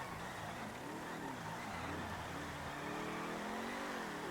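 A car in GTA V races east along the Del Perro Freeway in light rain, its engine droning and revving steadily as it weaves between lanes.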